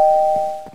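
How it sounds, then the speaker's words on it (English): A doorbell rings inside the video game Minecraft, one sustained electronic chime tone that rings out loud and alone before fading, with faint thumps underneath. "It won't stop ringing the doorbell!"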